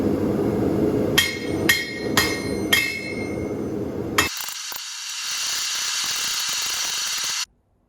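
A hammer forges a twist damascus steel billet with four sharp, ringing blows in quick succession, close by, followed by a steady harsh machine whir that stops abruptly.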